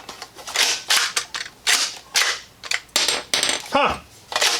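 AGM MASTECH shell-ejecting toy shotgun blaster cycling its action to kick out shells without firing, a rapid series of sharp plastic clacks and rattles in an irregular rhythm, close and loud, with no talking.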